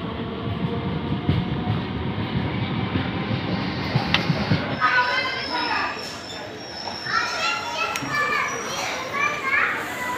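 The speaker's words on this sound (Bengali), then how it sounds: "ট্রেনও আমার ছেড়ে দিয়েছে" A train bound for Panskura, West Bengal, rumbles along steadily with a low, continuous clatter, while children's voices and chatter rise over it in the second half.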